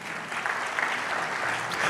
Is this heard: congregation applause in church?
yes